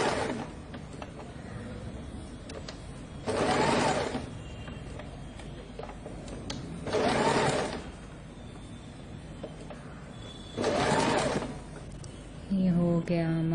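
A sewing machine stitching the front clutch of a dhoti saree runs in three short bursts of rapid whirring, each lasting under a second and separated by quiet pauses, close by with low room hum between.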